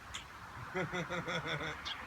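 A pet bird in a room gives a quick run of repeated harsh, quacking calls in a rhythmic burst, near and clear over a quiet background.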